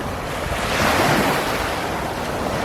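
Ocean waves break and wash steadily along the sandy shore of Biloxi Beach on the Gulf of Mexico, a broad continuous surf roar with wind buffeting the microphone and no voices.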